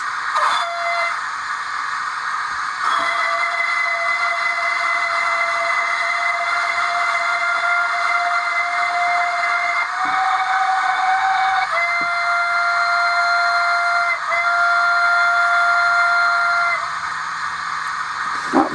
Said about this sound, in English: play a couple of whistles